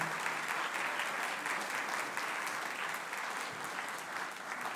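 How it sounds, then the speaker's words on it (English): Steady applause from an audience for a middle school band at a spring concert fills the room, dense clapping that holds for several seconds without a break. "one more round of applause for our middle school band"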